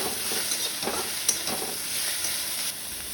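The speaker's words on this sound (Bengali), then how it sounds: "চিংড়ি মাছটা প্রায় ভাজা হয়ে এসেছে" Prawns frying in a pan with a steady hiss and sizzle, occasional stirring scrapes over the constant crackle, close and moderately quiet.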